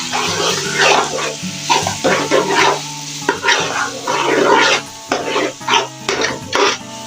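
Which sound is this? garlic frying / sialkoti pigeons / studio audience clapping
garlic frying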